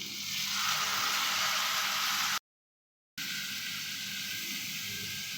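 Spice mixture of ground spices sizzling in oil in a pan for loitta dried fish, a steady close hiss of frying that cuts out briefly and then carries on.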